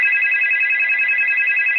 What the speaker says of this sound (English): Oh, yay, phone call, thank you.